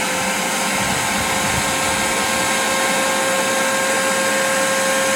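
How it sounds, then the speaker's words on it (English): A Ferrex Aldi 6-gallon wet/dry shop vacuum runs close and loud with a steady whining roar and a rough gurgling undertone as it sucks water from a bucket. "suck down this bucket of water using the shop vac"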